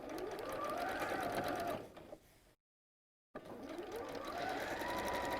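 A sewing machine stitches across the top of a pleated fabric bag, a fast steady mechanical whir that slows, stops briefly in silence, then starts again at full speed, close and alone.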